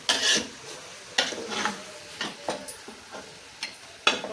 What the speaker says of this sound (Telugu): నెక్స్ట్ ఇప్పుడు కొబ్బరి పాలు వేసుకుందాం